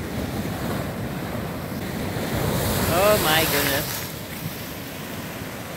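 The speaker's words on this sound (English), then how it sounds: "Yeah, don't go any more that way because the waves are pretty big." Big waves crash and roll onto the Lake Erie shore in autumn in Ohio, a steady loud wash with a swell midway, under heavy wind buffeting the microphone while a person briefly exclaims.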